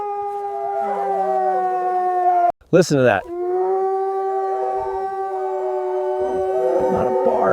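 Several Alaskan Malamute dogs howl together in long sustained tones, loud and near, broken briefly by a sharper vocal burst midway before the chorus resumes; someone speaks briefly.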